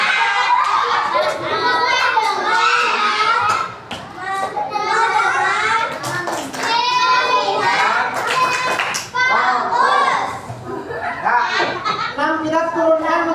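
A primary school class doing a math lesson performs a focus clap, with children's voices chanting loudly together and mixed with rhythmic hand claps throughout.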